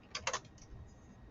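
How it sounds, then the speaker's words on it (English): Typing on a computer keyboard while filling in a Google Form, a short burst of four or five quiet close key clicks followed by a soft lull. "It's going to require some typing."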